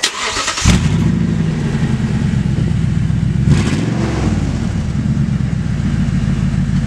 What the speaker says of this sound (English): so I guess Dusty took his muffler off